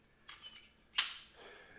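Walther PDP Pro pistol dry-fired: a few faint, light clicks as the trigger is taken up, then a single sharp, crisp snap as the trigger breaks, close-up and alone with a brief fading tail.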